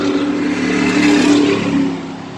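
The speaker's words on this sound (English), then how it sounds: "Crazy people driving." A car drives past on the road, a steady mid-pitched engine and tire rush that swells to a peak in the middle and then eases off as it moves away.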